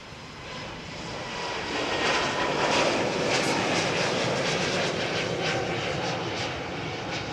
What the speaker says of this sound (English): Let's just grab this Lufty 320 Neo. She should go up about now